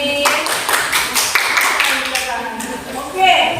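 Classroom clapping for a student, a brief burst of hand claps from a group of children that starts, carries on for a few seconds and fades, with the teacher's voice over it and some background chatter.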